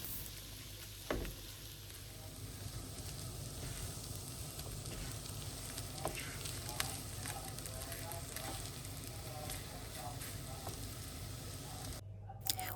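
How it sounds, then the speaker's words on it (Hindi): Potato samosa filling frying in oil in a pan, a steady dense sizzle running throughout with a few scattered clicks and knocks, no talking. "जब हम इसको इस तरह से ऑयल में फ्राई करते हैं"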